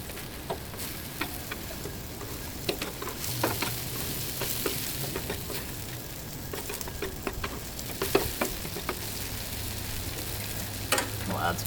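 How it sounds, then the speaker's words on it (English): Tomatoes sizzle on a Blackstone griddle with a steady fry hiss, while a spatula taps and scrapes now and then, close by and without speech. "these tomatoes do not need a lot of time. They just need to toast a little bit."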